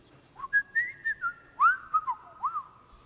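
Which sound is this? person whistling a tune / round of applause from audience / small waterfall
person whistling a tune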